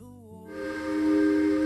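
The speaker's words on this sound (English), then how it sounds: "It's okay, but I like the horn on this one, for the whistle." A steam train whistle in Minecraft swells into a loud, steady multi-tone blast over a hissing rush of steam.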